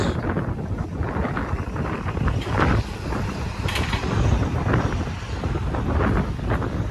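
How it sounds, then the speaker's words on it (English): Gusty wind buffets the microphone in a continuous rough roar, rising and falling in strength throughout. "it's windy today, so Tennessee everyday weather changes."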